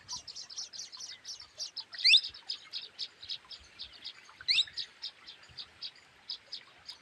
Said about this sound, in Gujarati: પોપટ બોલી રહ્યો છે।